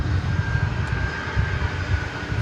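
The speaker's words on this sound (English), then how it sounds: "as this plane backs out in front of us" Jet airliner backing out from a gate at DFW Airport, a steady droning engine roar with a thin high whine, constant and fairly loud, with no talking.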